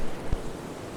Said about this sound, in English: if you take the mic off, it's just all you hear is wind, like water noise